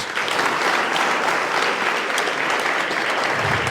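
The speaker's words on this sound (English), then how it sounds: "So let's give him a round of applause." An audience at a trauma symposium gives a round of applause, dense and sustained clapping from many hands at an even loudness throughout.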